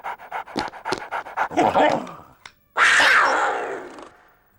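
A dog pants in a rapid run of short breaths, then breaks into a louder, rougher burst of breathy panting close to the microphone.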